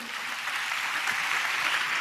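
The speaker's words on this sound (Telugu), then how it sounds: "చప్పట్లు కొడుతూ స్తోత్రాలు చెప్దాం" A church congregation clapping hands in praise, steady dense applause from many people filling the room evenly throughout.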